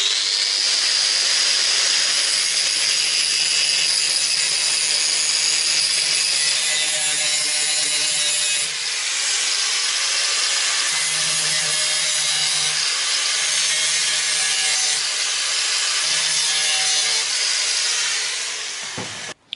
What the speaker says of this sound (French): je vais meuler les brins qui dépassent et aplanir un peu les soudures